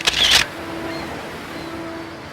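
A camera shutter clicks on a selfie stick, a short bright burst of clicking lasting under half a second, followed by quiet room tone with a faint steady hum.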